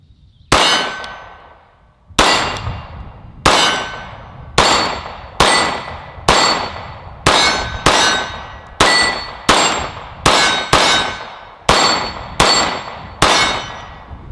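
Sig Sauer P229 Legion pistol fired at a range, first round double action: thirteen loud, sharp shots alone, spaced roughly a second apart with a brief pause after the first, each ringing off quickly.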